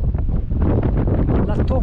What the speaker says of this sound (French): La tornade, le vent, je sais pas si ça se verra à la caméra, mais truc de fou.